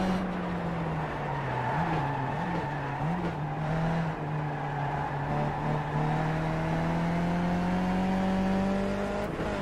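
A Skip Barber race car in iRacing laps the Zandvoort club circuit, its engine droning steadily and loudly throughout with slight pitch wobbles and a slow rise, heard from the cockpit.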